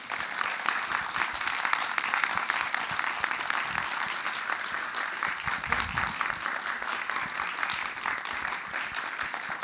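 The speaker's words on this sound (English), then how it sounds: "let's give them a big applause again" A concert audience applauds the musicians with dense, sustained clapping that fills the whole stretch at a steady loudness, with a faint voice briefly underneath.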